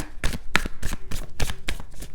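Tarot cards being shuffled by hand in quick, rhythmic riffling bursts, about seven crisp slaps in two seconds, close and loud with no talking.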